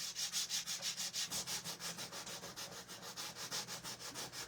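A 120-grit sanding block rubs back and forth over a wooden Easter decoration in fast, steady strokes, about four or five per second, each a soft raspy scrape, close but quiet, with no talking.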